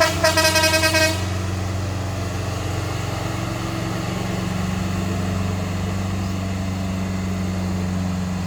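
An Isuzu truck passes in traffic, its horn sounding in a quick run of loud toots for about a second, followed by a steady low engine drone and road rumble.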